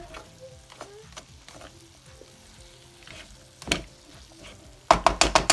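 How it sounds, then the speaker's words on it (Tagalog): Sautéed vegetables with spring onion are stirred in a pan over a low sizzle, with occasional spatula scrapes. A burst of sharp, loud clatters near the end sounds like utensil strikes against the pan. "Pagkatapos natin mailagay yung spring onion, haluin lang natin maigi ang ating gulay."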